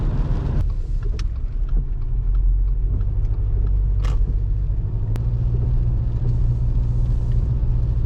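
Turbocharged 1.8-litre Subaru Forester SK5 under hard acceleration in a timed run, heard as a loud, steady engine rumble and road drone from inside the car, with a rising engine note and no voices.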